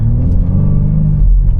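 A stock 2021 BMW G80 M3 with a manual gearbox accelerates from a green light, its engine a steady, loud, close low rumble and revving drone with no talk over it.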